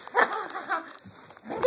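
A puppy gives short whiny yips and whimpers in quick succession, close by and fairly soft.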